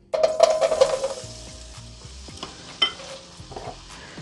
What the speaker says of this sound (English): We're going to fry the potatoes out